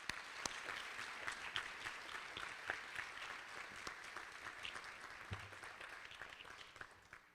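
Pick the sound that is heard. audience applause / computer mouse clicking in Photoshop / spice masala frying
audience applause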